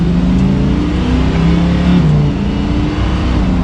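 A Lamborghini Huracan in Strada mode with the automatic gearbox picks up speed, its engine a loud, steady, rumbling drone heard from close by throughout, with no talking.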